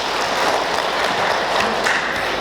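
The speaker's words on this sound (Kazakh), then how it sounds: "Ғылыми топтың атынан бір шапалақ ұрып қоямын." Continuous audience applause at a Kazakh conference marking the 320th anniversary of Kozhabergen batyr, a steady dense wash of clapping filling the room with no voices.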